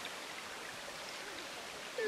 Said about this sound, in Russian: Вот такой вот водопадик.